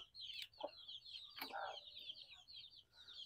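A hen in a backyard chicken pen, which has chicks nearly one month old, gives a few faint, scattered clucks with a steady chirping of birds behind them and no talk.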